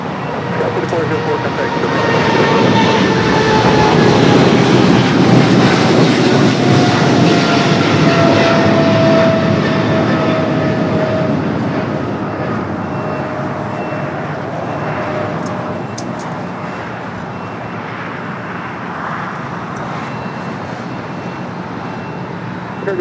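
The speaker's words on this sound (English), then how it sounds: "That 777 heading to Cincinnati, Northern Kentucky. Aerologic." Aerologic Boeing 777 cargo jet departing Los Angeles International Airport bound for Cincinnati, a loud, close broadband engine roar with a whining tone that swells over several seconds and then slowly eases off, with a faint voice beneath.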